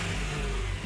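A Nissan Skyline Coupe's dual overhead cam 24-valve 3.5-liter aluminum V6 revs loudly and continuously close by, a steady engine roar filling the moment with no talk.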